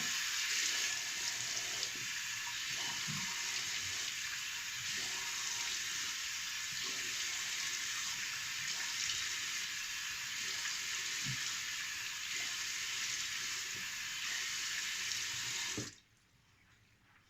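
Water runs steadily from a tap as soap is rinsed off a face, a close, constant splashing hiss with a few faint knocks, cutting off abruptly near the end.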